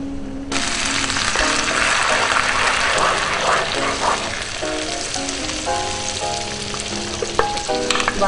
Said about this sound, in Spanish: Vamos a poner una cucharita de aceite. Le vamos a poner una cucharita de ajo.